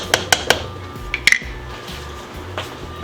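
A metal spoon stirs a pot of birria, making a quick series of bright clinks and taps against the rim, then a couple of softer scrapes and knocks. The sounds are close and fairly loud over a quiet background, with no voices.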